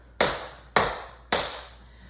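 Three sharp, evenly spaced percussive strikes from beginner tap dance steps of heels and claps, each a crisp close attack with a short decaying ring, alone in a quiet room.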